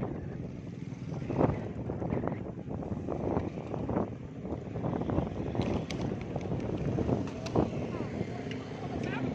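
Strong, steady wind roars and buffets the microphone during a whirlwind storm in Bekasi, a continuous loud rush with gusty swells and no clear speech.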